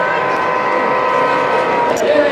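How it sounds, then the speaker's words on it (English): A model train rolls past on a layout at a train show, a steady close rumble with a faint high squeal of wheels and a brief tonal hoot near the end, amid hall noise. "As the MBT train goes by again"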